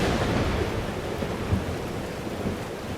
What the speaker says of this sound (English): Weather's worse than I remember it. The storm followed me.